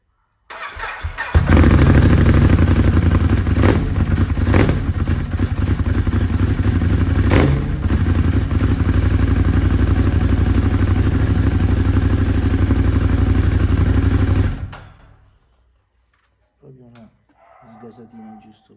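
A motorcycle engine on its original stock exhaust starts and revs loudly and close for about fourteen seconds, a thick rumbling drone with a few sharper blips, then cuts off into near silence.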